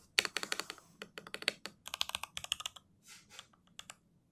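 Typing on a HATOR Icefall mechanical keyboard with linear red switches, a close-miked run of crisp, rapid keystroke clacks in quick bursts with brief pauses between them, no voices.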